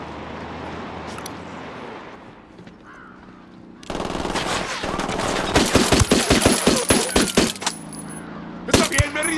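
Loud rapid bursts of automatic gunfire crack out in Ghost Recon Wildlands after a quieter stretch, dense volleys of shots that return in a final burst near the end.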